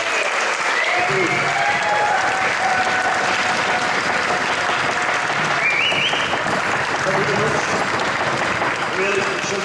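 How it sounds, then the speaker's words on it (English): Wedding guests applaud the best man during the reception speeches after a chapel wedding at Trinity Hall, Cambridge, a dense, sustained round of clapping filling the room throughout, with cheers and voices mixed in. "I want you to all have a round of applause for Dickie, my best man."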